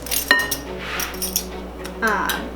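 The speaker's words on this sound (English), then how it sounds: "I'm going to add in 4 tablespoons of ice water." Ice cubes clinking in a cup of cold water in a kitchen while pastry dough is prepared, with a sharp chink early on and a brighter rattling clink near the end over a quiet background.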